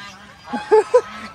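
Two short, nasal honks from white geese on a farm in Guimba, Nueva Ecija, spaced a fraction of a second apart over quiet rural background, with faint human voices nearby.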